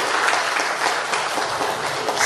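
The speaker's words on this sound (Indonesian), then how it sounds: "Tepuk tangan dong, buat Bang Zul." An audience at a public speaking training session applauds for Bang Zul, steady, full clapping from many hands that is loud and close throughout.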